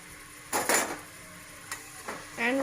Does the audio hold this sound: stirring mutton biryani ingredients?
yes